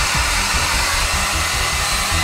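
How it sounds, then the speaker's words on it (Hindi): A hair dryer blowing steadily at close range, a loud continuous whooshing roar with a low fluttering rumble, unbroken from start to finish with no speech. "हेयर ड्रायर इसे पिघाल देगा"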